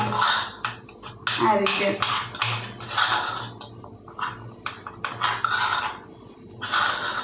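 Masala being stirred with groundnut oil in a pan, a series of scraping and clinking strokes of a spoon against metal, close and rhythmic, with a voice speaking briefly.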